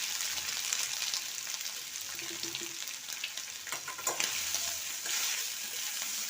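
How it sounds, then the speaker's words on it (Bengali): Boiled soya chunks frying in hot oil in a wok, a dense continuous sizzle close up with faint stirring scrapes underneath. "এবার কড়াইতে তেল দিয়েছি, তেলেতে সোয়াগুলো দিয়ে দিলাম"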